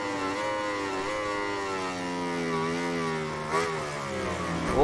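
MotoGP 19 video game motorcycle engine held at full throttle, a loud high-pitched whine with rising harmonics climbing steadily, then a brief burst and a shift near the end, no voices.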